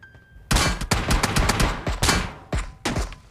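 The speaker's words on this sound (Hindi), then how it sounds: "गोली चलने का साउंड आता है" Rapid bursts of gunfire in the video game PUBG Mobile crack loudly and close, a quick volley followed by a few separate shots.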